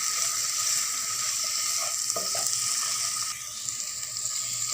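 Tomatoes fry in a pan as they are mixed in for soya chilli, a steady close hiss of sizzling with a few soft stirring knocks, alone without talk.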